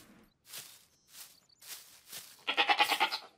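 Goat bleating in the survival video game SCUM, a nearby wavering bleat pulsing in quick rhythmic bursts after a few soft footstep-like shuffles, with no talking.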